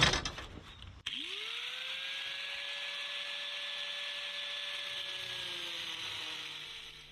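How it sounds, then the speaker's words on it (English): An angle grinder with a cutoff wheel scores into the edge of a piece of metal, spinning up after a second into a steady, close, loud whine with a ringing tone that holds for several seconds and dips slightly near the end. "using the angle grinder with a cutoff wheel to go into the edge of the metal"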